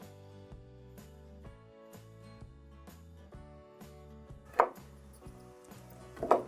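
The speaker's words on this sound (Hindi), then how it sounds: "बादाम काट लेंगे हम।" Almonds chopped with a knife on a board while making Kashmiri pink tea, a steady run of soft rhythmic taps under quiet background music, with two sharper, louder knocks near the end.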